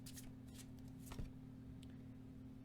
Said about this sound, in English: let me draw some cards for Taehyung's advice